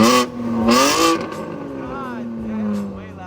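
A BMW G82 M4 all-wheel-drive coupe accelerating hard from a launch, engine note climbing loudly through the revs and then settling, heard close from inside the car while people talk over it.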